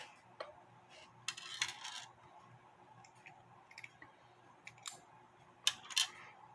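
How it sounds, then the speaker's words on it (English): Small metal parts of a 1909 Gustav Becker anniversary (torsion) clock give quiet, sharp clicks and taps in scattered bursts as the click is removed. "Taking the click off."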